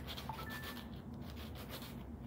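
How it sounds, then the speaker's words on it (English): Sanding block rubbed back and forth over a plastic model kit part to smooth the spot where it was cut from the sprue, a steady soft scratchy rasping sound heard up close and alone. "And then you can use a sanding block"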